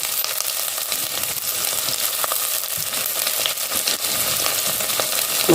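Tomato hits hot oil with browned onion in a pan for a Mangalore-style mackerel fish curry, giving a loud, continuous sizzle and crackle with some stirring noises and no talking.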